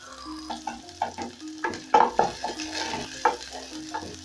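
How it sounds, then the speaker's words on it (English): Onions sauteing in a pan, a soft sizzle punctuated by irregular scraping and stirring clicks, close and fairly quiet. "I'm going to saute this till they start turning translucent"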